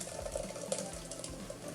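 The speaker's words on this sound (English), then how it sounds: "I'm gonna put it into the strainer to strain all the water out" Water from a drink mixture pours and drains through a kitchen strainer, a steady close trickling wash with small splashy bursts, no voices over it.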